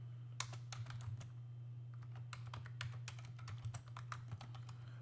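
Close, crisp clicks of typing on a computer keyboard, irregular bursts of keystrokes over a constant low electrical hum, with no talking.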